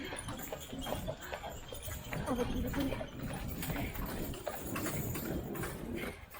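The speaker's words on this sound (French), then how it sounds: "Il y a un poney devant." Pony hooves clip-clop ahead on a path while someone rides an electric scooter, with steady clopping under wind noise and a voice talking over it.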